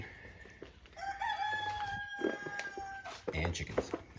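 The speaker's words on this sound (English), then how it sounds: "And chickens and roosters." Roosters crow repeatedly with long, rising calls among clucking chickens on a rural property, heard at moderate distance while a person talks over them.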